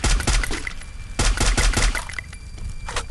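Loud bursts of rapid gunfire in the video game Free Fire in quick succession, with a short pause before more shots, sharp and close.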